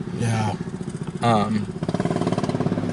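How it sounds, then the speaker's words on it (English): A motorcycle engine revs and sputters in uneven bursts, its rough pulsing putter running through the clip beneath a voice speaking briefly. "It sounds like this motorcycle's actually screwing up on him."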